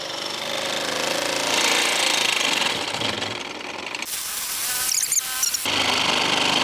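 A power saw fitted with a country-shaped blade cuts through material, giving a loud, continuous harsh grinding whine that surges and breaks off briefly partway through before resuming.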